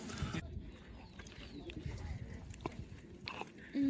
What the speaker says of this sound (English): The fish heads are crunchy